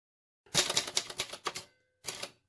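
A Sperry Rand Remington Streamliner typewriter clacks through a quick run of keystrokes, each strike crisp and close, then falls silent before a brief second burst of typing.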